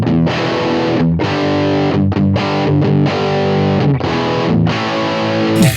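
An electric guitar played through a Universal Audio Lion 68 Super Lead amp on its brown setting rings out in loud, heavily distorted chords, several separate strums and held notes with short gaps between, close and alone without talk.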